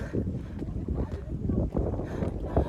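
Strong wind gusting across a mountain trek to Rajkada around sunrise, a loud continuous low roar that buffets the microphone with uneven surges and no voices.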